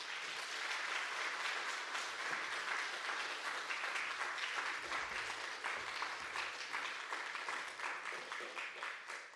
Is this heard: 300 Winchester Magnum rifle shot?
no